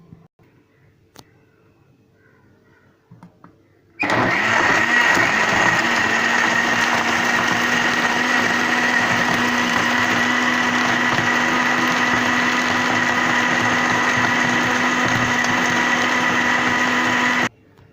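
Electric blender whirring steadily after a quiet start, blending banana, dates and milk into a milkshake, loud and close, then cutting off abruptly.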